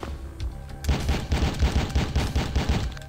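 Rapid bursts of gunfire from The Fifth Element video game crackle in a dense, rhythmic stream, loud and close, carrying on without pause for several seconds.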